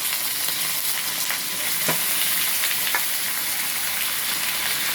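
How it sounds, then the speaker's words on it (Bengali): Chicken frying with onions and spices in a wok gives a loud, close, steady sizzle. A few sharp scrapes of stirring cut through it, with no talking. "মশলার সঙ্গে চিকেনটা পেঁয়াজের সঙ্গে ভালো করে ভেজে নেব।"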